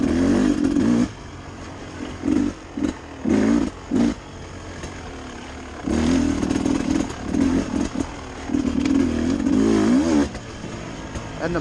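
2021 Beta 300 RR dirt bike two-stroke motor running nearby, loud bursts of revving and throttle blips with short gaps between them and a rough, rasping engine note throughout.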